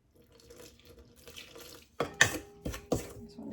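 A hot milk and water mixture pours gradually into bread dough in a bowl, soft liquid splashes and trickles up close, then a few louder sloshes and clinks.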